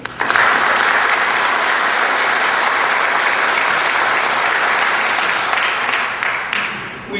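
Loud, sustained applause from a commencement audience fills the hall for about seven seconds, then tapers off at the end.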